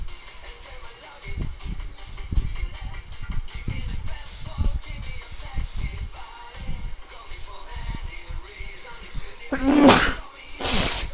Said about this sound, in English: You may hear some sneezing.